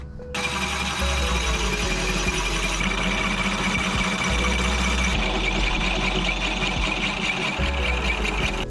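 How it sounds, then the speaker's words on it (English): A hole notcher cuts into a steel tube during a trail-side rock crawler repair, a loud, steady grinding whine with continuous buzzing drone held throughout, with no speech. "this hole notcher, tube notcher, and I'm going to basically notch the tube"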